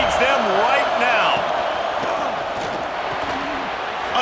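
Stadium crowd in an NCAA Football video game, a loud, steady roar of cheering with some rising and falling voices, going on under a commentator.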